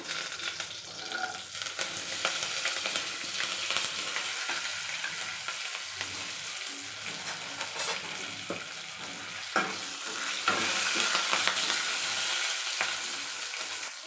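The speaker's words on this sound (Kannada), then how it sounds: "ಜೀರಿಗೆ ಸಾಸಿವೆ ಬೆಳ್ಳುಳ್ಳಿ ಮತ್ತು ಕರಿಬೇವಿತ್ತಲ್ಲ ಒಟ್ಟಿಗೆ ಹಾಕೋತೀನಿ ತುಂಬ ಕಾಯ್ದಿದೆ ಎಣ್ಣೆ" Cumin, mustard seeds, garlic and curry leaves spit and crackle in very hot oil for a North Karnataka dal tempering, a dense steady sizzle with popping bursts throughout, no talking.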